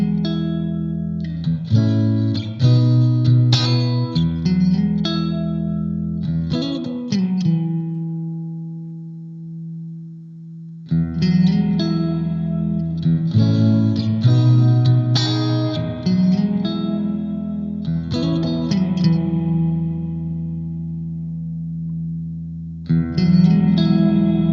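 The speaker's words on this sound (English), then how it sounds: "And the fourth one is a plate reverb." Guitar chords played through the plate reverb setting of a Blackstar ID Core V3 amp ring out in loud strummed phrases, each leaving a smooth, lingering reverb tail that fades through the pauses.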